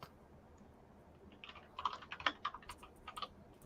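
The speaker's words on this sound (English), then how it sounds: "Don't judge my typing, people." Typing on a computer keyboard during a podcast recording, in quick irregular bursts of close, crisp clicks that start partway through over a quiet room background.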